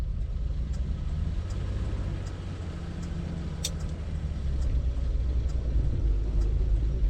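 A car engine idles low and steady, then the rumble swells slightly as the manual three-on-the-tree column-shift car pulls away slowly in first gear.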